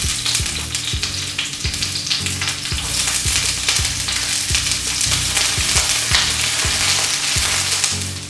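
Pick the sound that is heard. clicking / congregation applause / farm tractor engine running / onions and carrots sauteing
onions and carrots sauteing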